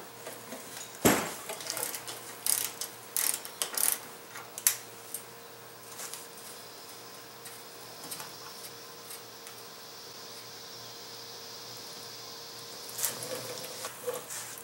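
Metallic ratchet clicks and clanks from loosening an outer tie rod end nut at the steering knuckle, sharp close taps in a quick cluster early on and again near the end, with quieter stretches between.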